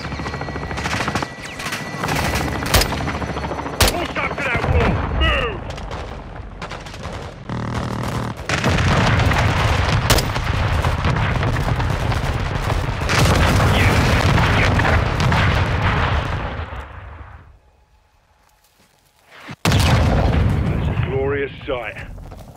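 Air strike in Call of Duty Modern Warfare II on a building: heavy booms and rapid gunfire roll continuously for about seventeen seconds, then cut to near silence before another loud burst erupts, with radio voices talking over the barrage.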